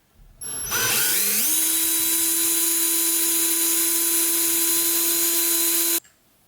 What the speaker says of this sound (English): So I'm just drilling a pilot hole to start with.